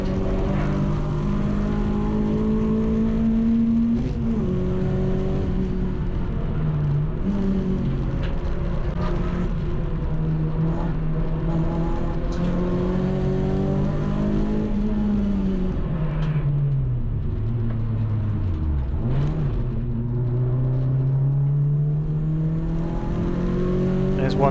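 Renault Clio race car lapping the narrow Cadwell Park circuit during a trackday championship round, engine droning and shifting pitch as it revs and brakes continuously from inside the cabin, a voice talking over it.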